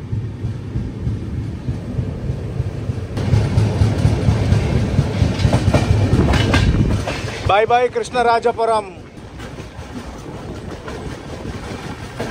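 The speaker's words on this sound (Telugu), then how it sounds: "కృష్ణరాజపురం నుంచి మన ట్రైన్ అయితే బయలుదేరిపోయింది" The Bangalore to Chennai Double Decker Express pulls away from Krishnarajapuram with a loud, close rolling rumble and rail clatter that swells, then a voice speaks briefly over it before the noise drops to a quieter hum.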